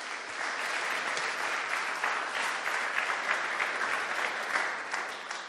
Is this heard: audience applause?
yes